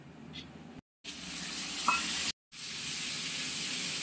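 Cumin, bay leaf and tomato frying in hot oil for a koi fish curry, a steady bright sizzle with a brief louder spit, cut by two short silent gaps.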